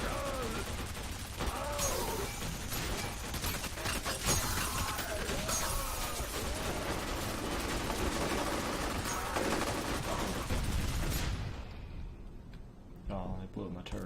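A mounted turret in the shooter F.E.A.R. Perseus Mandate fires in dense, rapid automatic bursts with metallic mechanical clatter for about eleven seconds, mixed with a voice, before cutting off into quiet.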